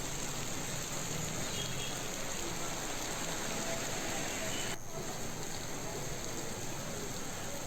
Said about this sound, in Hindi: रामबन बालेहाल में इस वक्त बारिशें भी हो रही हैं